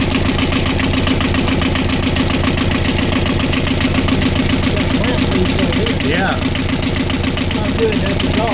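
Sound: Universal 5411 engine running at idle

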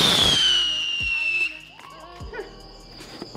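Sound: firework rocket launched from a rocket pad

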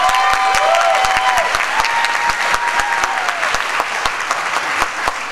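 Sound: audience applause for a choir

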